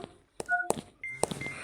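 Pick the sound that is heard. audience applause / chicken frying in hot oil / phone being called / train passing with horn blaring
phone being called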